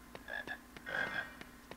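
A chocolate frog croaking in the PC game Harry Potter and the Philosopher's Stone: several short, quiet croaks in an uneven rhythm, alone with no talk.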